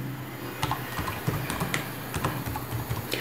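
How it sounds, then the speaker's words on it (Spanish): A password is typed on a computer keyboard, a close series of light key taps at an uneven pace over faint room noise, with no voices. "voy a proceder a poner la contraseña"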